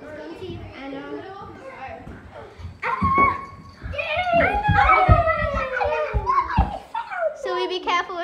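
A dog yips, whimpers and barks in short excited bursts, mixed with children's voices and play noise close by.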